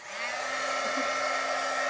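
A craft heat tool blows hot air at close range during a chalk-paint and vinyl DIY project on a glass jar and tin can, a steady, loud whooshing with a motor hum that runs unbroken throughout.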